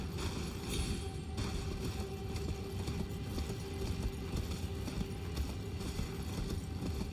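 A horse gallops while ridden in Elden Ring, its hooves pounding in a fast, steady rhythm that runs loud and continuous throughout.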